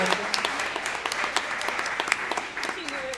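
Audience applause for a mother at a community event, steady clapping filling the room, with a few brief voices and whoops over it.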